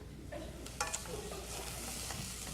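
Ingredients swished around in a hot frying pan, a soft steady sizzle with a few brief scraping knocks from stirring, close and quiet.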